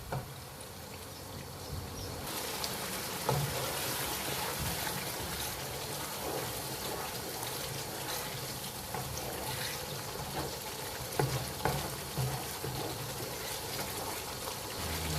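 Mutton keema masala cooks in oil in a karahi, giving an even, continuous bubbling hiss with small pops, close by and with no voices.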